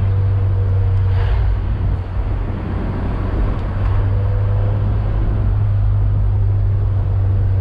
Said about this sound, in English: I love the sound of this Fiat. I haven't done anything to the exhaust.